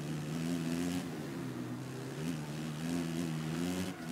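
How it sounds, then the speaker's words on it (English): Motocross bike engine revving in the MXGP3 video game, a steady droning buzz with rising and falling pitch as the throttle opens and eases, loud and continuous throughout. "You can see revving the engine here."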